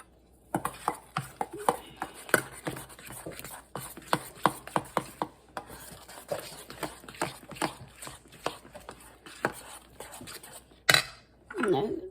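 Ingredients for a low carb bacon tomato appetizer being stirred in a bowl, a string of quick uneven scraping and clicking strokes with brief pauses, close and moderately loud, with a short louder clatter near the end.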